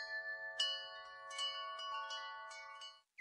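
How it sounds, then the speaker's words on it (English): A bright bell is struck several times in succession, each clear ringing tone overlapping the fading ring of the one before, close and fairly loud with no other sound. "like bells"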